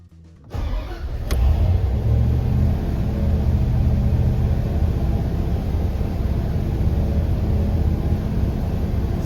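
A 1990 Dodge W250 Power Ram truck engine starts and settles into a loud, steady high idle, a constant deep rumble close by with no talking.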